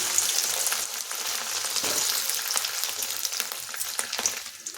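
Boiled potatoes fry in hot oil with a continuous close sizzle and crackle. Occasional stirring scrapes sound through the sizzle, which holds steady at a fairly loud level throughout.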